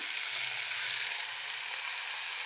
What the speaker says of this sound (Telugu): అది వేయగానే చింతపండు, నానబెట్టుకున్న చింతపండు కూడా ఇందులోనే వేయించాలండి